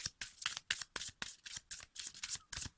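Cards from an angel oracle deck being shuffled by hand, with a rapid run of crisp riffling bursts repeating steadily and close up, no voices.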